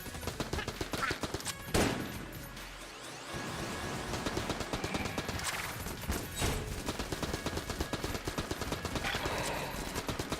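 Rapid enemy gunfire in the roguelike shooter Enter the Gungeon, dense bursts of shots crackling continuously over game music with a sharp impact near the start.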